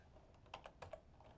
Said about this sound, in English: So we're going to type in here,